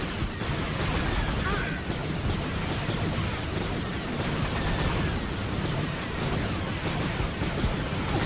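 Cannon fire in the Star Wars strategy game Empire at War, a steady rumbling barrage of distant booms blended into continuous battle noise, with voices talking over it.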